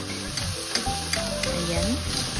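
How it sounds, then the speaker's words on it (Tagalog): Pancit canton with bacon is stirred in a pan over the heat, with soft scraping strokes over a continuous sizzle, close and fairly quiet, while background music plays. "Tapos, halo ulit."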